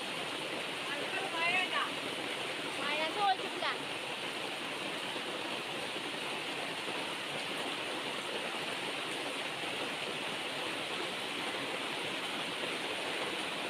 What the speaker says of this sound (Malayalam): അതുപോലെ കേട്ടോ മഴ ഇങ്ങനെ പെയ്യുന്നത്.